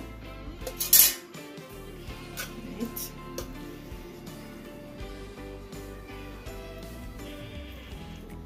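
Spoon clinking against a pan while coconut filling is scooped into baked Jamaican gizzada pastry shells, scattered light metallic taps and scrapes, one louder clatter early on, close and fairly quiet.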